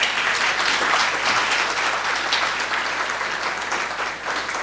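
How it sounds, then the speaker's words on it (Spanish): An audience at an international seminar on intangible cultural heritage in Chile applauds, a full, sustained wash of many hands clapping that slowly fades toward the end, with no talk over it. "Un aplauso también para ellos."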